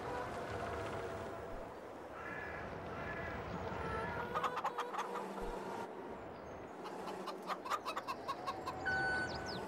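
Chickens in the Farming Simulator 22 video game cluck and chatter in a busy, overlapping stream, with sharper clucks bunching toward the end over a constant background hum.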